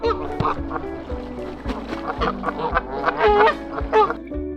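Geese honking repeatedly in a noisy, overlapping chorus in a marsh, close by, with harsh calls rising and falling over an outdoor background.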